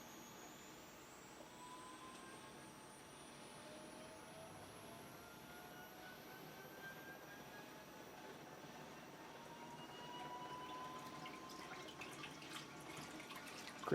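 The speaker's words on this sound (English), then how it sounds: "you'll hear it slowly ramp up, and you'll start to see the water moving." An Anycubic Wash & Cure Plus resin-washing station spinning water into a vortex, a faint, steady whirring hum that slowly ramps up and grows slightly louder toward the end, with no talking.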